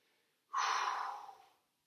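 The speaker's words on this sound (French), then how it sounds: "Soufflez à la remontée." A single forceful breath is blown out while pushing up from a push-up, a sharp close exhale that swells quickly and fades over about a second.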